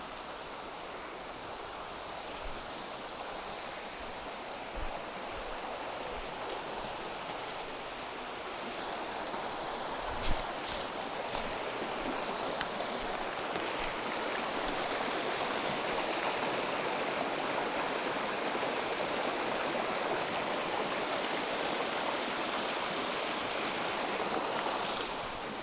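Cedar Creek in Montana flows in a steady, broad rushing wash that holds evenly for the whole stretch, close by, with a couple of faint knocks and no voices.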